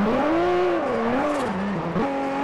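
A Nissan Skyline GT-R in Forza Horizon holds an all-wheel drift, its engine droning loud and steady, the pitch rising and falling as the throttle is worked, with faint tyre noise and no voices.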